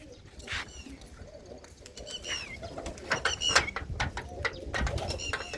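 Pigeons in a rooftop coop in a Punjabi village make soft, overlapping cooing with occasional wing flaps and small chirps, close but fairly quiet against a faint outdoor background.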